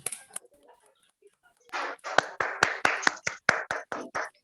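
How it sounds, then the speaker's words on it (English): A small group at a corporate success-story event claps to welcome a team, starting faintly and then settling into a steady, rhythmic run of sharp, close hand claps. "Let us all cheer and welcome Team Vashi with big round of applause."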